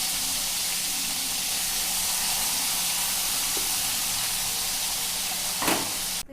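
Puthi fish frying in a pan over a lowered gas flame, giving a steady loud sizzle and hiss throughout, with a brief louder spatter near the end.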